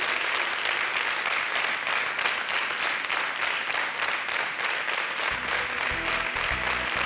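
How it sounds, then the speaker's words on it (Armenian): An audience applauds young singers at a New Year concert broadcast, sustained dense clapping with a rhythmic pulse, loud and full, while a voice or music emerges near the end. "ծափահարենք նրանց"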